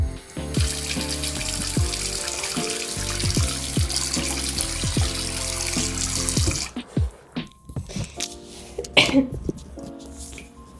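Warm water pours from a tap into a plugged sink in a steady, close rush for about six and a half seconds, then cuts off, leaving a few small splashes and drips.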